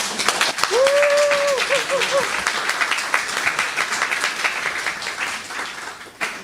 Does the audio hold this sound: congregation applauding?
yes